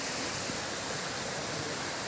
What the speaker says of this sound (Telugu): ఆ వాటర్ ఫాల్ నుండి వస్తున్నటువంటి వాటర్ ఇదిగో చూస్తున్నారా